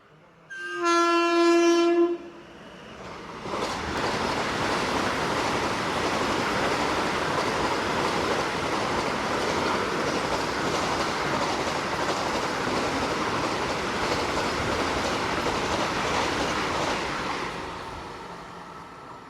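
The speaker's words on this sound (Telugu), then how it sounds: "మచ్ అవైటెడ్ వందే భారత్ వస్తుందండి" An orange Vande Bharat express sounds a short horn blast, then roars through Pithapuram station without stopping, a loud, steady rush of wheels and rails lasting about fifteen seconds before fading.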